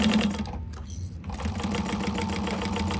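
A sewing machine back stitches along the edge of a pouch with a steady, close mechanical whir. Its rhythm pauses briefly partway through, then the machine hums on without a voice.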